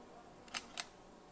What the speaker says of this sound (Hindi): कैमरा शटर या फिर camera click, camera flash, camera flash से रिलेटेड मुझे साउंड इफेक्ट चाहिए